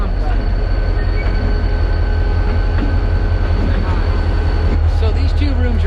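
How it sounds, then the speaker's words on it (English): A train rumbles past outside a former race shop, a loud, continuous rolling clatter with rail squeal, while people talk over it. "the train. Here it comes."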